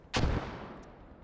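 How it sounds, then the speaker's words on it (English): German mortars fire in the Post Scriptum game during a Market Garden battle: one loud, close boom that starts abruptly, holds briefly and then rolls away into a long fading tail. "See the German mortars there trying to hold back the oncoming wave."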